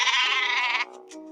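A sheep gives a single clear, close bleat lasting under a second, followed by brief quiet.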